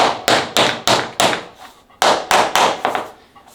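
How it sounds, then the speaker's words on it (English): A hammer taps a vinyl flooring plank into place, a run of about ten sharp close knocks in quick uneven groups, each one fading fast. "And then we just tap this in."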